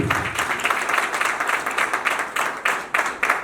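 Wedding guests at a civil ceremony in a town hall clap for the first witness, the groom's elder brother, as he stands. The applause is close and loud, with distinct rhythmic bursts of clapping.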